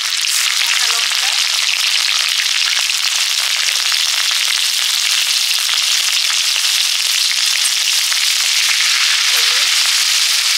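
Green chillies fry in hot oil with a loud, steady, close crackling sizzle that runs unbroken throughout, with faint utensil knocks near the start and end.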